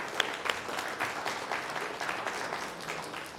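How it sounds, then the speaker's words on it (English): Moderate applause from a small group at a city council meeting after a unanimous vote, distinct claps audible within a fairly quiet, roomy wash that continues at a steady level. "We don't usually applaud, but this one deserves it, so congratulations."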